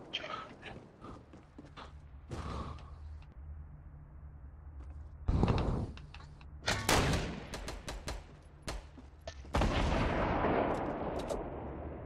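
Gunfire in a Fortnite squad match rings out as sharp, loud cracks and bursts, some single shots and some in rapid clusters, with heavier blasts around the middle and a sustained roar of fire near the end, and no talk over it.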